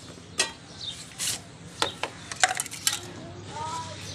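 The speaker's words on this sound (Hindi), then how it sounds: "मैं जल्दी जल्दी से बर्तन धो लूँ" Dishes, pots and cutlery are washed by hand, giving scattered clinks, scrapes and clatters at irregular intervals, close and moderately loud over a low background hum.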